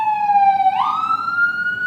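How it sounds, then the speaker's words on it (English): An emergency vehicle siren sounds outside, a loud wailing tone that holds steady and then sweeps upward partway through. "I apologize for the sirens."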